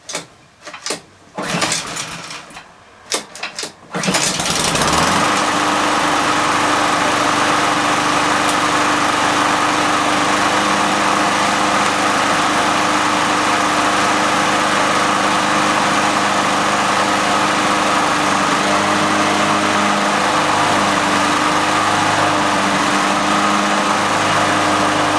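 A commercial-grade Husqvarna push lawn mower is pulled with a few rattling cord tugs, then catches and runs loud and steady, its small engine droning close by without a break.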